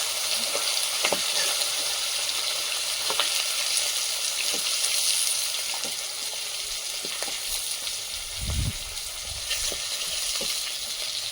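Fish, freshly caught live, frying in hot oil for a home-cooked meal: a steady, close broadband sizzle with scattered pops and clicks, and a brief low thump near the end.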